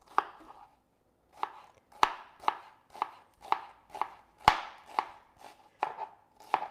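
A knife chops through an onion on a cutting board in about a dozen crisp, close strikes, spaced irregularly after a short pause, with no talk.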